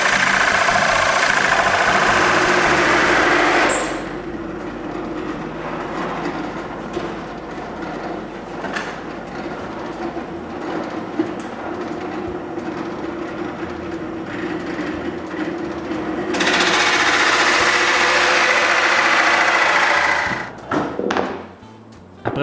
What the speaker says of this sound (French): je perce un trou de la grosseur de mes tuyaux d'aspirateur